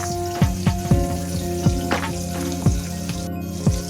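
Chilies sizzling in hot oil in a pan, a steady loud frying hiss punctuated by sharp rhythmic taps of a spoon stirring against the pan roughly every half second.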